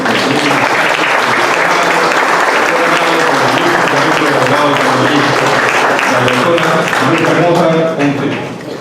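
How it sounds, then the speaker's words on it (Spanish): A lecture audience in Chiclayo, Lambayeque gives a strong round of applause to welcome a speaker, loud continuous clapping filling the room and fading slightly at the end, with faint voices underneath. "la recibimos con un fuerte aplauso"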